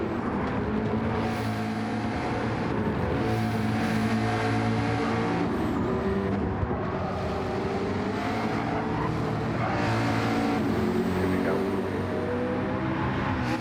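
Race cars in a Fuji pro-am endurance race roar steadily along the track, with engine tones rising and falling as cars run close in slipstream, a continuous loud drone throughout.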